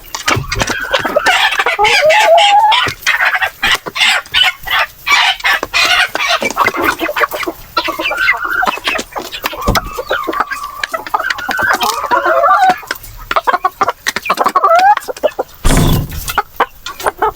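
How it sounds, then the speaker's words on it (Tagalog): A native rooster and hens cluck and squawk loudly and close by, in a busy, choppy stream of calls with crow-like warbles and occasional sharp bangs. "Pasaway yung native na manok na lalaki."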